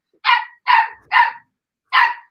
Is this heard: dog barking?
yes